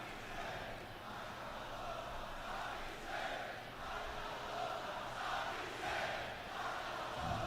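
A large European arena crowd at WWE SmackDown roars and chants in a steady, sustained wash of cheering that stays loud and distant throughout.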